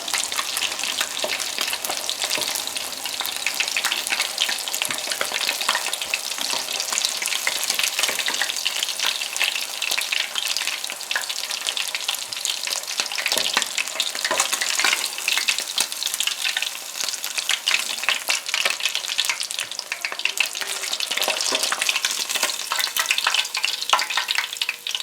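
Fish fries in hot oil for a dal-and-rice meal, a dense continuous crackling sizzle with popping bursts throughout, loud and close with no talking.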